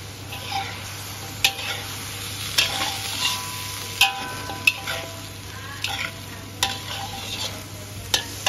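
Zucchini being stir-fried in oil with garlic, egg and minced pork, a spatula scraping and clinking against the pan in a steady rhythm over a constant low sizzle, close and fairly quiet.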